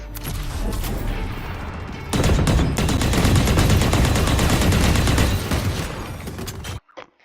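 Sustained automatic gunfire from a first-person shooter video game, dense rapid bursts that grow louder midway and run continuously for several seconds before cutting off abruptly, with no talk over it.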